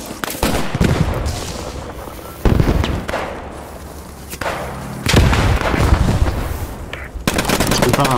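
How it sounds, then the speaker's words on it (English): A grenade blast and surrounding gunfire in the WW2 shooter Post Scriptum: sharp, loud explosive hits land a few seconds apart over a steady rumble of distant battle, with faint voice chatter underneath. "Move away, I'll drop a grenade."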